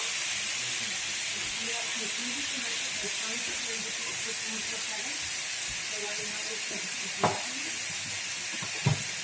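Beef for tacos browns in a pan with a steady, close sizzle and hiss, a low voice talking underneath, and a couple of sharp utensil clicks near the end.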